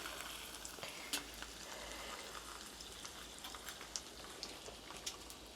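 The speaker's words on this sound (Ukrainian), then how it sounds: "кладемо на неровно стоящую сковороду кладемо чебурек і надіємося, що він не розклеїться" A cheburek fries in a pan inside a tent during winter camping, giving a continuous crackling sizzle with scattered sharp pops, close and fairly quiet, with no talk over it.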